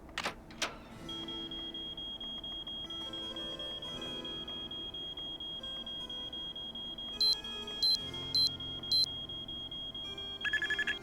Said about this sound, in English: the alarm that keeps going off for a few seconds